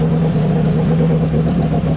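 A 2700 hp Holden VL drag car engine roars loud and close at full throttle, running without nitrous, as a sustained, unbroken drone.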